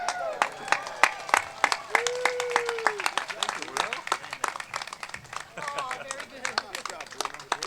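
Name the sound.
audience applause at a ceremony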